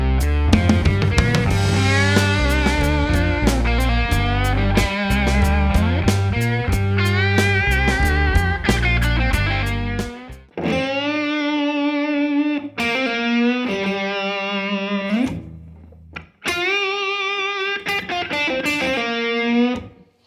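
Distorted electric guitar plays a blues lick in G in a 4/4 rock shuffle, a busy run of bent, sustained notes with heavy vibrato, then short separated phrases with brief gaps, loud and alone.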